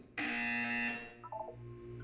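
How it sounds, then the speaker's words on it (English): A harsh electronic buzzer from the video game Portal 2 blares loudly for nearly a second, then gives way to softer, lower tones that fade out. "When you hear the buzzer, look up at the ceiling."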